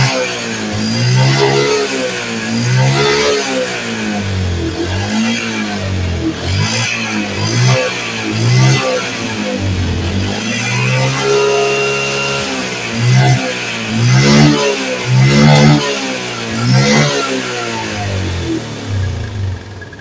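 A Yamaha Jupiter MX motorcycle engine with a rough-running fault, revved repeatedly in loud, close bursts that rise and fall in pitch over a continuous mechanical drone, with no talking.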